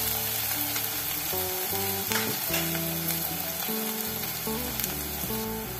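Onion frying in a pan for oyster curry, a continuous bright sizzle with occasional stirring scrapes, while music plays steadily underneath.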